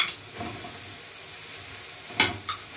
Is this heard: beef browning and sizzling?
yes